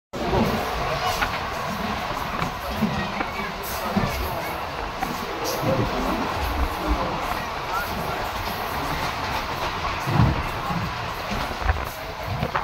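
Inside a train halted at Katpadi junction, the Tirupati to Tiruvannamalai express, a loud, steady rumble of the carriage mixes with crowd noise and chatter on the station platform.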